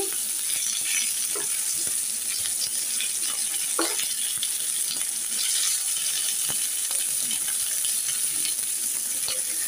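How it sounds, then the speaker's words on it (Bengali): Ingredients for Arabian kabsa fry loudly in a pan and are turned over. A constant bright sizzle carries scraping stir strokes and clinks from the utensil against the pan, with no voices. "এবারে আস্তে আস্তে এগুলো ভেজে নেব। আমি এবার এগুলোকে উল্টিয়ে দিচ্ছি।"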